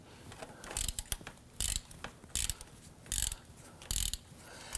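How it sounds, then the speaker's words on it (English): A hand ratchet with a 14mm socket loosens rust-penetrant-soaked nuts on a 2008-2011 Ford Focus right front CV axle, giving five quick bursts of close, crisp clicking separated by short pauses. "We're going to use our 14mm socket."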